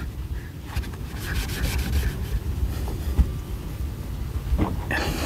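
Someone buffs coating off the paint of a 2021 Toyota Tacoma TRD Pro with a steady, close rubbing and scrubbing sound, broken by a few sharp bumps, with no one talking.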